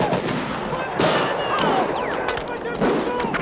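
Gunfire crackles in a Russian action film battle scene, rapid overlapping shots and bursts sounding fairly close and loud, with shouting voices mixed in.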